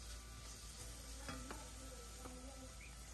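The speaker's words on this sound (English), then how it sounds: "After frying your onion until it's translucent, you can add your favorite spices" Onion frying in a pan with black pepper and spices, a steady close sizzle with a few brief stirring scrapes of a utensil against the pan.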